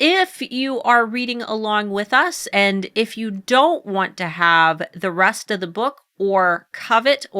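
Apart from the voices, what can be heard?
None of the usual background noises is heard.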